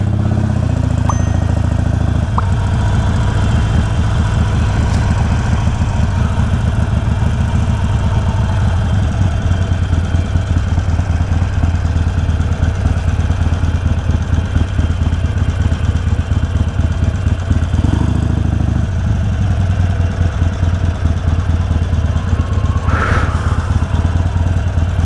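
A Harley-Davidson motorcycle engine idles steadily close by, a low continuous rumble with a faint ding partway through and no talking.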